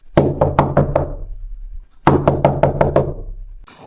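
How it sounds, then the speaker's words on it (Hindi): A house door is knocked on in two quick bursts of about five sharp, hollow raps each, loud and close, with a short pause between the groups and nothing else heard. "उस घर के दरवाजे को खटखटाते हैं"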